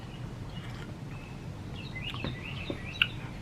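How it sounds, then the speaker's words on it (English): Faint birds chirp and tweet outdoors in scattered short calls over a low background rumble. "It's like we hear more birds and stuff too."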